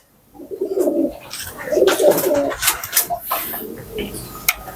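Pigeons coo repeatedly nearby in low, throaty, rolling calls, with a few sharper bird noises mixed in.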